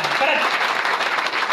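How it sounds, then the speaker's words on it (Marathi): An audience claps loudly and steadily, a dense wash of applause from a crowd with a voice briefly audible over it. "टाळी वाजवायची नंतर जोरात वाजवा बाबा"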